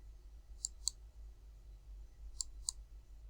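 Two pairs of sharp, faint mouse clicks a second or so apart, heard over a low steady hum in a quiet room while using a website builder tool.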